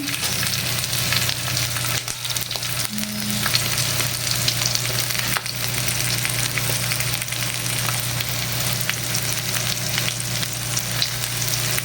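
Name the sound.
garlic frying in leftover cooking oil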